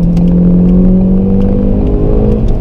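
A 2018 Ford Focus EcoBoost engine drones steadily from inside the car while driving on Fuerteventura roads, a continuous loud hum with a slowly shifting pitch as it moves through the gears, no voices.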